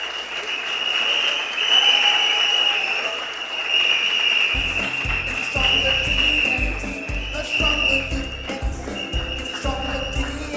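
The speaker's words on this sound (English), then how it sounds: "cue your whistles and your round of applause as we call to the stage first Dewchand Ramjit Singh." Crowd at a political slate launch in a hall cheers with loud whistles and applause, a sustained shrill whistle over dense clapping, then a heavy thumping music beat kicks in partway through.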